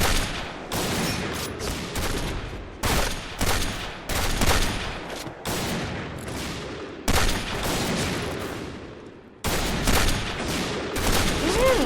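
An M200 sniper rifle fires repeatedly in the video game Point Blank, each sharp, close crack followed by a short rumbling tail, with about ten shots spaced unevenly and some gaps of near silence.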